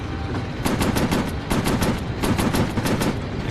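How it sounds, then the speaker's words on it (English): Fighter plane machine guns in the VR game Warplanes over the Pacific, firing in rapid bursts of evenly spaced shots, loud and close over a constant engine drone. "I gotta cool down the guns."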